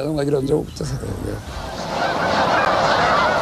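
Geese flying low overhead honk loudly in a rapid burst at the start, then the dense flock's calls blend into a continuous noisy chatter.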